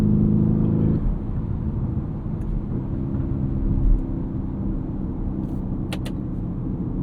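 A 2023 Lamborghini Urus S twin-turbo V8 SUV pulls through city streets with a steady, deep engine drone that eases after the first second. It then holds a constant rumble with faint rattles and clicks.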